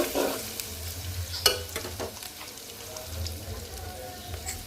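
Chopped onion fries in hot oil in a pan after fish has been fried in it, a soft steady sizzle with occasional stirring scrapes and clinks, fairly quiet and close.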